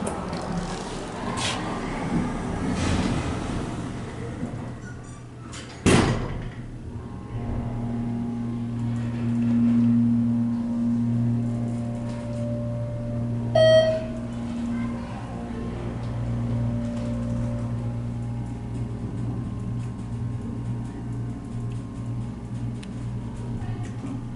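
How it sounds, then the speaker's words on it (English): A ThyssenKrupp hydraulic elevator at an expo center runs with a steady low motor hum through the ride, after a loud thump of the door partway in and a brief chime later, with a faint voice in the background. "We have a ThyssenKrupp elevator to ride."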